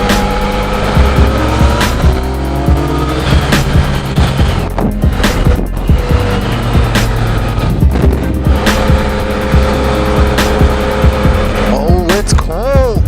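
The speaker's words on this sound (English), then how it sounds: "I'm gonna do a burnout on it." Yamaha FZ-09 motorcycle doing a burnout on a fresh rear tire, engine revving loudly with sustained tire squeal and skidding noise close by, continuous over the whole stretch, with a voice at times.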